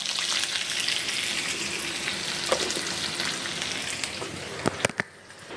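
Cumin, sesame seeds and green chillies tempering in hot oil for khandvi, a loud close continuous sizzle and crackle with a few sharp pops and clinks near the end.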